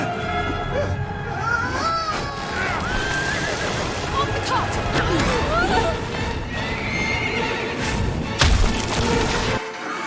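Horses neigh and whinny repeatedly in an animated fantasy show, with hoof clip-clops and thuds beneath the loud, overlapping calls and a sharp impact near the end.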